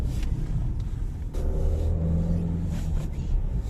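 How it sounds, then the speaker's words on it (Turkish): Cars moving along a road in Çengelköy, Istanbul, on a cold snowy morning, heard as a steady close rumble of engines with a swell as a vehicle passes partway through. "Biraz araba var."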